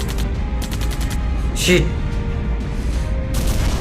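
Rapid gunfire from a plane in the Sky Fighter video game, bursts of quick shots in several runs with a boom midway, under a voice speaking close.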